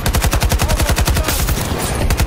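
Rapid automatic gunfire from an AK-24 rifle in the video game Battlefield 2042, a loud, tightly spaced stream of shots that runs without a break.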